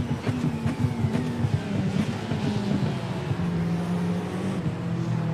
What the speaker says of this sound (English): That Porsche behind me is hella loud, dude.